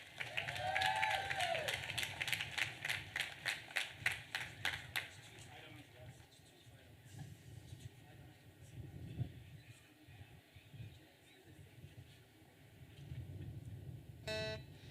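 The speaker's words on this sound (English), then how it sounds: "Please give a round of applause for Sophia Rabin." A graduation ceremony audience applauds at a high school commencement, dense clapping at the start that thins and fades, followed by quieter crowd murmur and shuffling.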